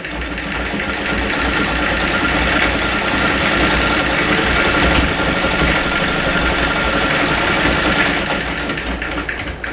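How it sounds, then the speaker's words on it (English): A vintage Singer 206K treadle sewing machine stitches denim at speed, a steady fast mechanical whir with rapid rhythmic clatter, loud and close throughout before easing slightly near the end. "show rather, how fast you can go on this treadle"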